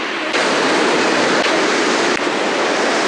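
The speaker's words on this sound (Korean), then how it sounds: "이 천지연 폭포는 제주도가 만들어질 때 만들어진 폭포고" Cheonjiyeon waterfall on Jeju Island roars as a steady, loud, broadband rush of falling water close by, unbroken throughout with no voices.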